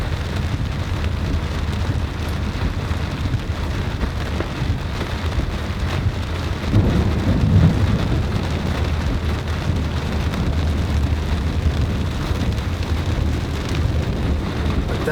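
Heavy rain pours steadily during a night thunderstorm with flooding, a dense continuous roar of water and a brief low rumble of thunder near the middle, with no voices.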